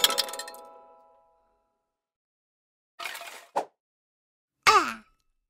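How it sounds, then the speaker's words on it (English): A ringing clang that fades out, then after a pause a short rattle and clink, followed by another bright metallic crack and jingle as a hammer breaks open a piggy bank. No voices. "Pinkerton had to use a hammer to break open his piggy bank"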